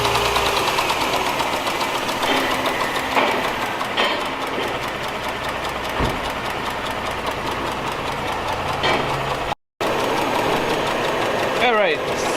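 A car engine idling with a collapsed hydraulic lifter after a Liqui Moly hydraulic lifter additive, running steadily and fairly loud with a faint repetitive ticking, a brief cut near the end and a short squeal.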